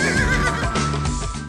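A horse at a rural horse racing event lets out a loud, close whinny that wavers across the whole moment, with no talking.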